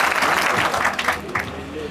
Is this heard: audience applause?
yes